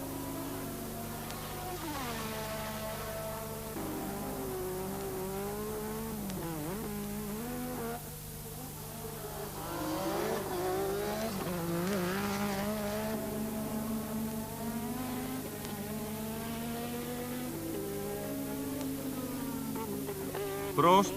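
Formula 1 race cars from the 1986 season scream past in a continuous high-pitched engine whine, rising and falling in pitch as they pass, steady and loud throughout with no talk.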